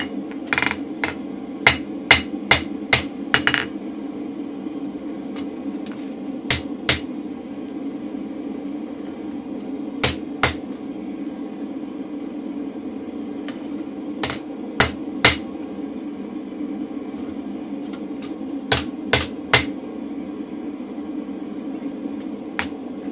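A blacksmith's hammer flattens cherry-red hot steel on an anvil, ringing in sharp metallic clusters of three to five quick blows separated by pauses, loud and close over a steady low hum.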